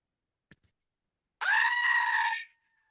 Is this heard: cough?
no